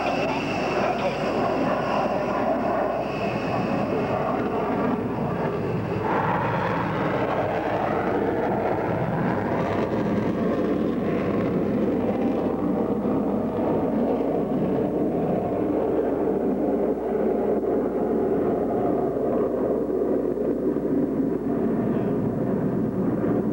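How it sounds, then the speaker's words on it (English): A B-1B bomber takes off at the Paris Air Show, its jet engines a loud sustained roar that swells and shifts in pitch as the aircraft climbs away, continuous for over twenty seconds. "The B-1B on the takeoff."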